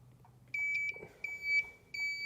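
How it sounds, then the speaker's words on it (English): A test light probing the pins of a car's 4-pole flat trailer connector gives short, high electronic beeps, about four bursts in an irregular rhythm, close by and clear over faint background noise. "so you can see that light is beeping and flashing in conjunction with our turn signal going"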